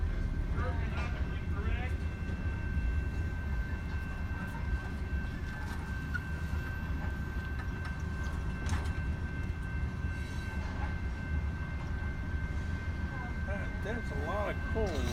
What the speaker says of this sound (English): And it's a long train.